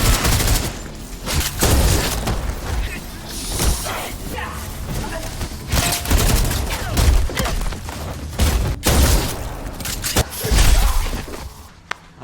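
Gunfire cuts down zombies in an action drama: dense bursts of shots, impacts and crashes throughout, under a narrating voice and shouted dialogue.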